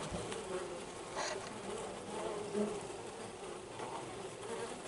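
Honey bees trapped inside a bee vacuum buzz continuously, a faint, dense swarm drone with fluctuating wingbeat hum and no voices.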